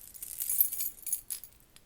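Keys jangle close by in a quick, bright burst of metallic clinks, shaken a few times and then settling.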